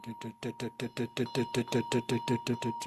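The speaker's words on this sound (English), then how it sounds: "here we do just a short bell and damaru, like dun, dun" A small hand bell and a damaru drum sound together in Tara ritual practice, a fast steady rattle of evenly spaced beats with a ringing bell tone throughout, close and alone.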